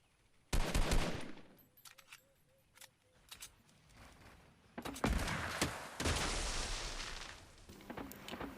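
Bursts of assault rifle fire in a shooting video game, with sharp broadband cracks clustered in short volleys and separate single shots spread across the clip, loud and close, with faint background tones between.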